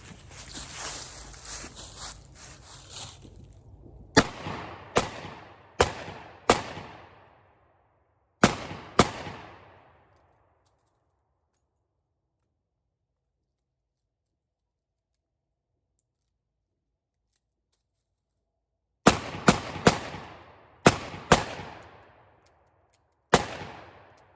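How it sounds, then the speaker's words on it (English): A Colt Python .357 Magnum revolver fires Hornady XTP hollow point reloads loaded with Hodgdon 110 powder. Loud, sharp shots come in two clusters of about six each, separated by a long silent stretch, and each report rings out briefly. "I'm shooting Hornady XTP hollow point ammunition, backed up by Hodgdon 110 powder."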